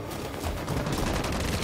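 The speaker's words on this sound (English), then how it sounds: "Who's shooting?" Gunfire in the PS5 game Detroit: Become Human rattles in a dense, rapid burst of shots, loud and continuous across the short moment.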